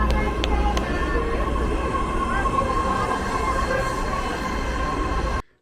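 A continuous rumbling roar inside a moving BART Red Line commuter train, steady and loud, with faint high squeals on top before it cuts off abruptly.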